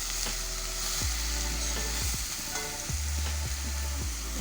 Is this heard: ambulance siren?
no